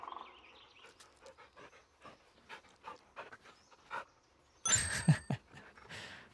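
Dog in the Blair Witch horror game, rhythmic close panting in short breaths, then a louder burst of movement and rustling toward the end.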